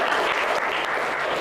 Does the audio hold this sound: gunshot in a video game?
no